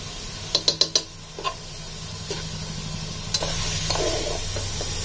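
Vegetables cooking in ghee in a pan are stirred, with a few sharp clacks of the utensil against the pan early on and a steady, close sizzle underneath. No one speaks.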